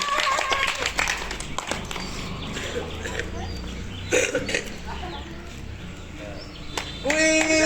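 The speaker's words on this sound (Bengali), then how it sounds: "সবাই একটা হাততালি দেন" An audience claps hands at a village-field pot-breaking game, a scattered burst of clapping mixed with crowd chatter and voices, with sharper clap clusters near the start and end.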